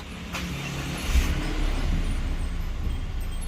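A Mazda 2 diesel car engine cranks and catches with a brief thump, then settles into a steady, low idle rumble.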